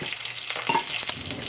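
Red chilies and turmeric frying in a pan for an Indian-style celery sabzi, sizzling steadily up close while a utensil stirs with a couple of scraping strokes.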